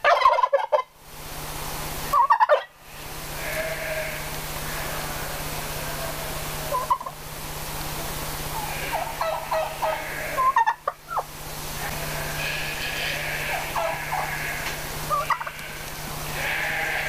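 Turkeys on a farm, including a male spreading its tail and a hen, gobble repeatedly, loud nearby bursts of warbling calls recurring throughout, with a steady hum underneath and no talking.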